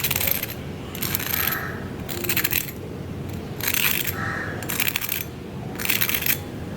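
Crisp, crackly crunching of freshly fried snacks comes in a series of short bursts at an uneven rhythm, close and fairly loud over a low background hum.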